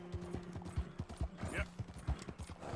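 Rapid, rhythmic clip-clop of horse hooves galloping in the Western video game Red Dead Redemption 2, soft and close, with a voice speaking over the hoofbeats.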